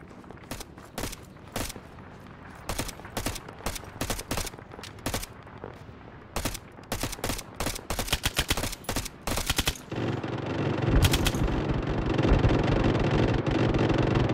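Rapid gunfire in a video game oilfield skirmish rattles in quick bursts of sharp, loud shots, then gives way to a denser, continuous roar of firing and engine-like rumble.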